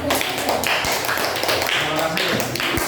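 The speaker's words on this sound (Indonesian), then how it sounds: "tepuk tangan untuk nomor 2" Classroom applause after a student group's presentation, a steady wash of many hands clapping for a few seconds, fairly loud and close, with a voice briefly mixed in.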